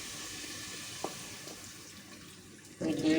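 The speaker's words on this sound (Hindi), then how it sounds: "मैं इसमें पानी डाल देती हूँ" Water poured into a pan of bhindi keema cooking on the stove, a brief splash followed by a louder steady gush of liquid near the end, close by.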